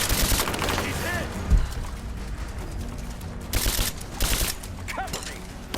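Dense bursts of automatic gunfire crackle through a firefight in the video game Rise of the Tomb Raider, overlapping volleys and sharp reports continuing throughout, with faint shouted voices mixed in.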